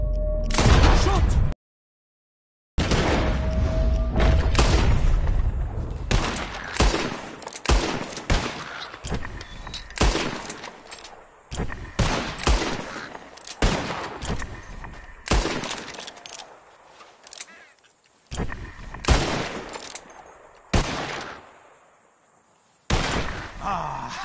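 Rapid gunfire from a bird-shooting contest in Red Dead Redemption 2, loud, close bursts of shots in quick succession with brief pauses, a short silent gap near the start.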